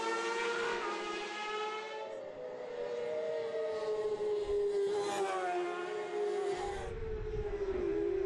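600cc race bikes screaming past at high revs, several engine notes overlapping and shifting in pitch as the bikes pass, loud and sustained, with no talk.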